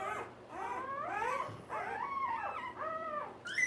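Newborn African Boerboel puppies whimper and whine up close in a series of rising, wavering cries, several overlapping in quick succession and fairly faint.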